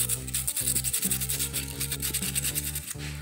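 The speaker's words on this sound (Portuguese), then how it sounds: "Vou lixar todos eles." Dried handmade wall decorations shaped like a mushroom and a ladybug are sanded by hand, making a steady, close, rhythmic rasping of quick back-and-forth strokes that continues without pause.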